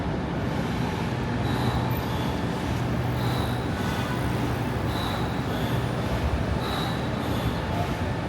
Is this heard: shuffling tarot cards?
no